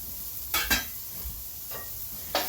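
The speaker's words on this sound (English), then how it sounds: "Saute that for about maybe a minute or so, just until it's fragrant" Garlic sautéing with onion in a pan for a cheesy Italian chicken dish: a quiet, steady sizzle with a few brief scraping stirs of a utensil against the pan.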